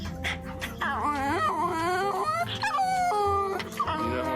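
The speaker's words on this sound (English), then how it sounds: "We don't have to understand the dog's language to know what he's complaining about." A dog on its way to the vet whines and whimpers close by in a continuous run of rising and falling high-pitched cries and yips, with short pauses between them.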